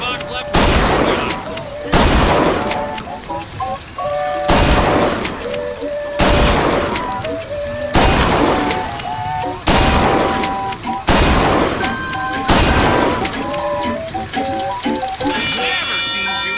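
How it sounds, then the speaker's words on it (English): Repeated bursts of gunfire at a shooting gallery in Bioshock Infinite, a sharp shot roughly every two seconds with ringing, tonal game chimes between them and a voice talking underneath. "Never seen shooting like that."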